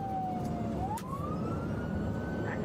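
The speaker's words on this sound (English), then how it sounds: "Sirens and lights are active, failing to yield." Police car siren wailing steadily during a vehicle pursuit, a loud sweeping tone that dips, then rises, over constant road rumble, with no voices.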